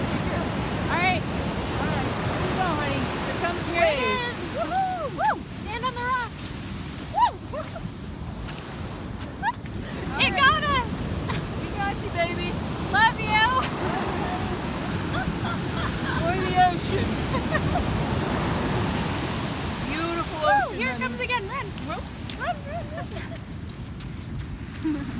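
Pacific Ocean surf on the shore, a continuous rushing wash of breaking waves with steady wind buffeting the microphone and scattered voices and calls of people on the beach throughout.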